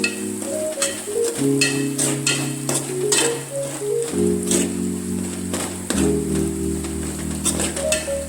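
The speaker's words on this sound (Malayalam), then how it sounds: "മഞ്ഞൾപ്പൊടി ഉലുവാപ്പൊടി അത് രണ്ടും ഇട്ട് നന്നായി ഒന്ന് ഇളക്കി കൊടുക്കാം" Turmeric and fenugreek powder get stirred into mango pickle masala in a pan, with steady scraping and stirring strokes under a continuous soft sizzle while a melodic tune plays throughout.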